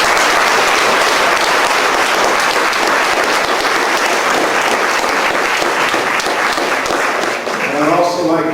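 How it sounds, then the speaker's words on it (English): A room full of listeners applauds a panel after a discussion on school desegregation and immigration, dense loud clapping continuing for several seconds before a voice begins to speak near the end. "we need to give this panel a round of applause"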